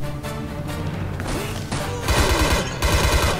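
Rapid bursts of Stechkin automatic pistol gunfire in a Metro video game mod, loud and close, firing in quick clusters of several shots with heavy low thumps.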